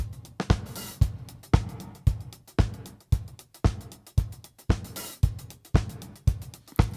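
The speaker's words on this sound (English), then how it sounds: "A lot of records from the 80s also send the kick in the gated reverb," Kick and snare drums both feed an 80s gated reverb in a steady rock beat. The booming kicks and punchy snare cracks each carry a brief swell of reverb that stops abruptly, repeating for several bars with no voices.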